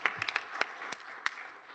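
Sparse, quiet clapping from a small group at a stadium authority board meeting, a handful of scattered hand claps spread over a couple of seconds in a fairly still room.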